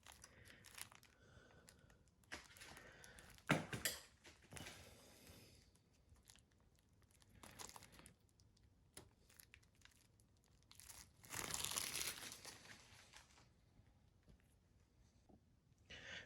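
Plastic bag being crinkled and handled while a bleeder screw is fitted on a Suzuki DRZ400SM motorcycle, soft scattered rustles with a louder crinkling burst near the end.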